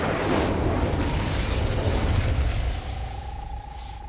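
Incendio fire spell cast in Hogwarts Legacy, a loud whooshing burst of flame that roars for a few seconds and then tapers, with a thin tonal hum emerging as it fades.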